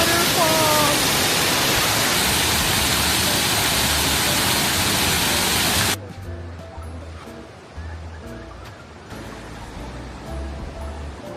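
A waterfall in New Hampshire or Maine gives off a loud, dense rushing roar up close, which drops abruptly to a softer, more distant wash, with voices talking over it.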